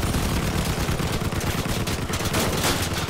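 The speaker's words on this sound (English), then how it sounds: "I may be sideways, but I can still shoot." Continuous heavy gunfire in the vehicle combat video game Crossout, a dense, loud, unbroken barrage of rapid automatic shots and impacts with no pauses and no talk.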